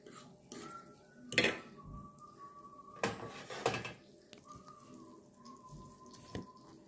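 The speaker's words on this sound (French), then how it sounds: "Du coup, je racle avec mes couverts sans rayer." Metal cutlery scrapes and clinks against small raclette pans in irregular bursts, with a few sharp clatters among softer rubbing and a faint thin squeal between them, and no voice.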